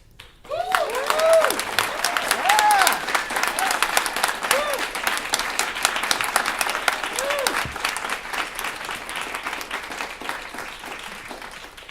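Sustained applause from a debate audience for a debater, steady and fairly loud, with a whistle or cheer near the start and talk faintly over it, gradually tapering off.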